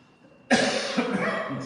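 A single harsh cough bursts out suddenly after a quiet moment, followed by a few shorter rough coughs and throat sounds trailing on, close to the microphone.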